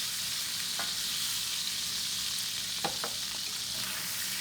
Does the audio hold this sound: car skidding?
no